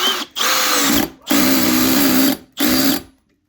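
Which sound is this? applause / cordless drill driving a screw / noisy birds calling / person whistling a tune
cordless drill driving a screw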